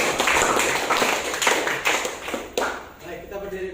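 A classroom of students claps their hands in a quick scattered burst of sharp slaps, fading out as the teacher begins talking at the end.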